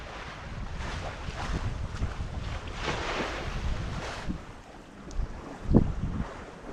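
A sailboat under sail on a test run, wind buffeting the microphone with water splashing and hull slaps, gusty and uneven, one sharper splash near the end.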